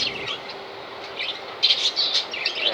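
Finches let loose into a backyard bird aviary give bright, quick chirps and tweets in scattered bursts, growing busier and louder toward the end, with no speech.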